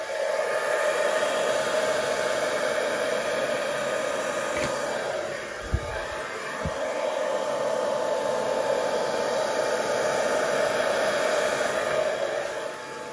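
A steady, loud stream of blown air rushes over wet acrylic paint on a Dutch pour canvas, a constant whooshing hiss with a couple of faint knocks partway through.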